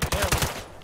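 Rapid gunfire from a shooter video game, several quick bursts packed into the first half second before fading out, loud and close with no voices.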